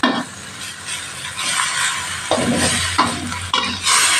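Water spinach stir-fried in a hot pan, a steady loud sizzle with scraping stirs and a few sharp clanks of the spatula against the metal, no voices.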